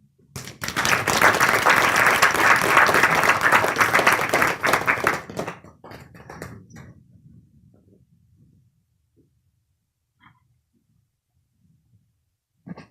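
Audience applause at an African American Studies panel discussion, a dense burst of clapping that swells for about five seconds, then thins into scattered claps and fades to near silence, with a few last faint claps at the end.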